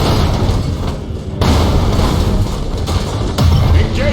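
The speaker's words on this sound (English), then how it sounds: "Initiate Thunderhawk bombardment!" Thunderhawk bombardment in a Warhammer 40,000 video game, a continuous heavy rumble of explosions with repeated deep booms, loud and sustained with no break.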